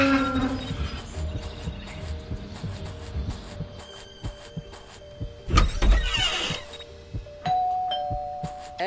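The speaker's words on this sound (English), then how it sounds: "There goes that stupid bell again." A doorbell rings inside the Scary Teacher 3D video game, its tones standing out over a busy layer of game music and effects, with a louder burst of activity near the middle.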